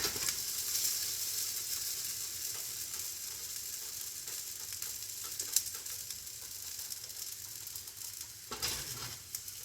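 Roasted pork loin piece sizzling steadily in a very hot pan, a continuous close frying hiss with faint crackles and pops throughout, no voices.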